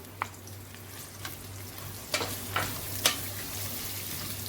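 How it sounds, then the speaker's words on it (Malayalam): Three chopped onions frying in melted ghee for chicken haleem, a continuous sizzle broken by several scraping stirs of a spatula against the pan, close, with a low steady hum underneath and no talking. "ഇതിനി നമുക്ക് ഒന്ന് വാടുന്നത് വരെ നമുക്ക് ഇളക്കി കൊടുക്കാം"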